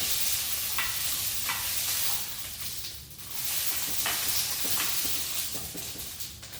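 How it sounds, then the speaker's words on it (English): Green beans sizzling and cooking down in a pan, a steady frying hiss with occasional stirring scrapes, fairly close and without talk. "we're gonna let these cook down for a minute"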